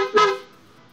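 A single short, loud car horn honk, fading out quickly.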